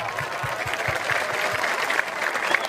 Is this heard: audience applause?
yes